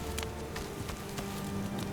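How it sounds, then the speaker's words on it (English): Heavily modded Skyrim plays a steady patter of rain on surfaces with wind moving through grass, a faint, even wash broken by light scattered taps, with no voices. "you've got the grass blown in the wind with the rain"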